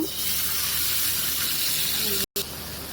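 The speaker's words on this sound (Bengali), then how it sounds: "একটু পানি দিয়ে দিব মশলা কষানোর জন্য।" Water splashed into a pan of frying onions and spices, giving a loud, steady hissing sizzle that fills the whole moment, with a brief dropout near the end.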